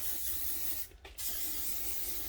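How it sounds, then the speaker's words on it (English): Acid etch primer sprayed onto a Fiat Punto GT car panel during welding repairs in a workshop: a steady, close aerosol hiss running the whole time, broken only by a brief pause in the middle. "I'm just going to give it a quick coat of acid etch so it doesn't rust overnight"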